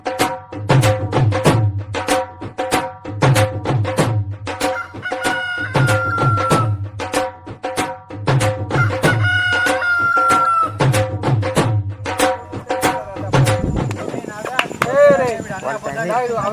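A rooster crows and clucks in rapid repeated bursts, loud and close, at a village Bonalu festival setting.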